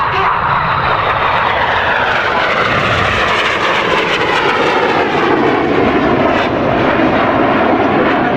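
Red Arrows RAF jets roar continuously overhead through an opposition barrel roll at an airshow, a loud broadband engine rush that shifts in pitch as the aircraft pass, with no talk over it.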